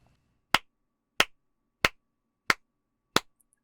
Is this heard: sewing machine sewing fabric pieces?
no